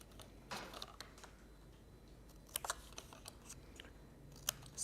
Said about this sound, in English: So we're going to snip those pieces away.